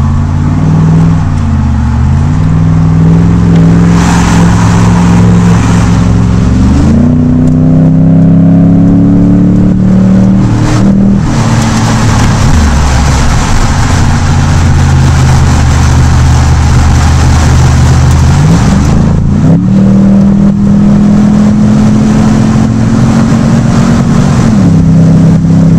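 Car engine in an Xbox driving game on a freeway, loud and continuous, its pitch climbing through gears and dropping at each shift, with a few brief bumps and clicks over the steady drone and no talking.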